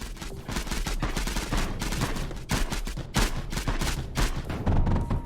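Turrets in the video game Mindustry fire rapid, steady bursts of gunfire, a dense rattling fusillade that keeps going without pause and swells slightly louder toward the end.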